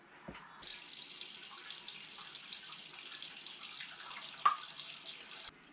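A steady stream of water runs from a kitchen tap for several seconds, a continuous hiss with a brief clatter near the start and a clink near the end.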